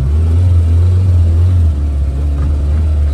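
Turbocharged engine of a Nissan 1400 bakkie, a 5-speed pickup, runs with a deep, steady rumble that dips slightly partway through, close and loud with no talk over it.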